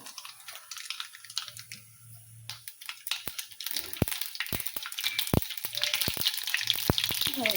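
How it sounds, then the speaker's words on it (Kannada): Cumin and mustard seeds crackle and pop in hot oil in a kadai, a dense spattering sizzle with sharp scattered pops that grows busier over time, close by with no talk. "ಈಗ ಎಣ್ಣೆ ಕಾಯ್ದಾದ್ರೆ ಇದಕ್ಕೆ ಮೊದಲಿಗೆ ಜೀರಿಗೆ ಹಾಕ್ತಾರೆ, ಸ್ವಲ್ಪ ಸಾಸಿವೆ ಹಾಕ್ತಾರೆ"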